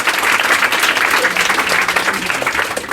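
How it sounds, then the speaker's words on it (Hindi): An audience at a ceremony honouring students who passed their 10th board exams claps loudly and steadily. The dense, sustained applause fills the room throughout with no break. "एक जोरदार ताली बजाइए"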